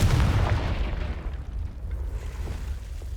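A Confringo blasting spell goes off in the Hogwarts Legacy video game, opening with a heavy low boom that rolls away into a long rumbling decay, with no voices over it.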